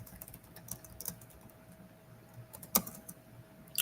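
Typing on a computer keyboard: a quiet, uneven patter of key clicks over a low steady hum, with one sharper keystroke near the end and no talking.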